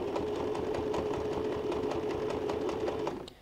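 A sewing machine running a very long stitch length along a marked line, a continuous close whirring rattle at steady speed that slows and stops at the end.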